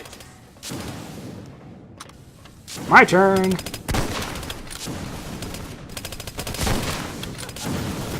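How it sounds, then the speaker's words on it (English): Bursts of gunfire in the video game Hunt Down the Freeman crackle and pop amid busy game sounds, with a short synthetic tone in the middle and a voice speaking briefly. "I hear gunfire."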